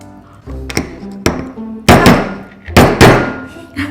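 A hammer repeatedly strikes a hard Vietnamese mud crab shell on a table, a series of loud, sharp thunks and cracks, some in quick doubled blows, ringing close up with short gaps between.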